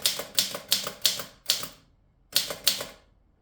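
A cleaned and serviced Stoewer Model 5 typewriter is typed on, crisp, loud key strikes in a quick run of about six, then a pause and two more, each snapping close with a short metallic ring.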